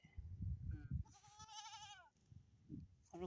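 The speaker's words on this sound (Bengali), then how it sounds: "দেখছেন একটা ছাগল আর একটা ছাগল ঘোরাঘুরি করছে।" Goats on a farm, including a young kid, bleat once loudly and close, a wavering cry lasting about a second amid low rustling and handling noise.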